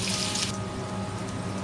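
Water pours from a tap into a pot of tomato paste and blended tomatoes during cooking, a brief steady splashing rush that softens after the first half second, close by and without talk.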